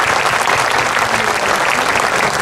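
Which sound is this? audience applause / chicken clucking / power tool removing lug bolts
audience applause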